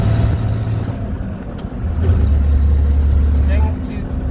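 A loaded little white Ford harvest truck drives with its engine droning low and strong, briefly dipping as a gear changes, then pulling hard again from inside the cab.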